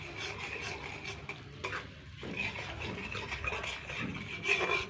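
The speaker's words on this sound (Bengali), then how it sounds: "মশলাটাকে বেশ ভালো করে এবার কষিয়ে নেব।" A spice paste with ground cashew paste is stirred and scraped in a pan, soft rubbing and scraping strokes with a faint sizzle underneath, irregular and fairly quiet, with no talk.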